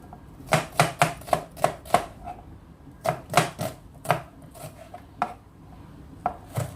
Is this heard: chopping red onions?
yes